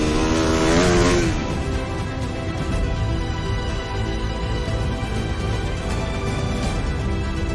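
A motocross motorcycle engine drones loudly and steadily during a stunt ride. Its pitch rises briefly at the start, then holds a constant close roar.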